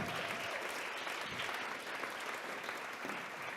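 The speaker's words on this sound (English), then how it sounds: "Let's give one big round of applause for everyone who was able to raise their paddles tonight." An audience at a hybrid charity gala and auction claps loudly and continuously, a dense, even wash of many hands that holds for several seconds without speech.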